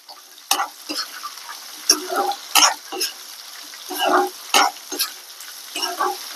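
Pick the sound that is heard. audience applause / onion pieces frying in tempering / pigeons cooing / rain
onion pieces frying in tempering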